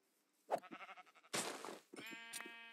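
Sheep in the Minecraft video game bleat several times, with short nasal calls near the start and a longer run of clear, close bleats near the end, broken by a loud burst of noise in the middle.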